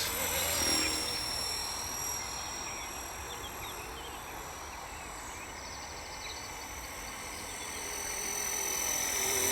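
A radio-controlled model helicopter flies outdoors in the sun, a steady rotor drone with a high whine, loudest near the start and end as it passes closer, with no talking.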